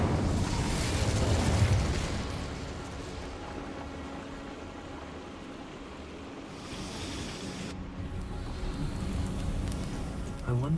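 The Incendio fire spell cast in Hogwarts Legacy bursts into a loud whooshing, roaring blast that trails off into a steady rushing hiss, while a voice speaks faintly under it.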